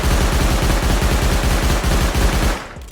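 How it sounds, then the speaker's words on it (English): Rapid automatic gunfire from a weapon in the video game Rust, fired in a sustained burst of closely spaced loud shots for about two and a half seconds before cutting off and decaying. "I'm going to shoot it again and try to control the recoil with the road sign gloves"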